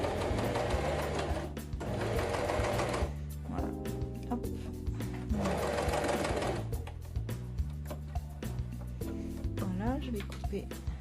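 Janome CPX 2000 Cover Pro coverstitch machine sewing through denim fabric scraps, a steady fast mechanical whir in several running bursts with short pauses, close and fairly quiet, with someone talking over it.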